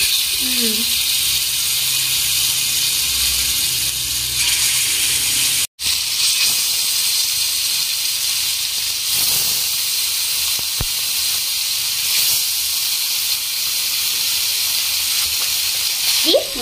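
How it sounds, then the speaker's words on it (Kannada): Fish frying in very hot oil for a fish fry, giving a steady, loud, close sizzle that fills the whole stretch with one brief drop-out partway through. "ಈಗ ಎಣ್ಣೆ ಮಸ್ತ್ ಬಿಸಿ ಆಗೈತಿ. ಈಗ ಮೀನಾ ಫ್ರೈ ಮಾಡ್ಕೊಂಡ್ಬಿಡೋಣ."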